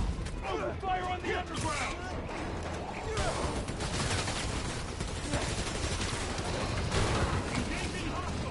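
Gunfire in the video game Spider-Man Miles Morales: dense rattling bursts of shots under shouted voices and busy action noise, continuous and fairly distant.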